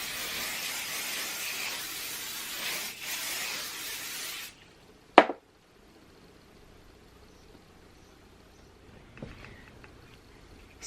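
A steady hairspray aerosol hiss sprays for about four seconds, followed by a sharp click and then near silence.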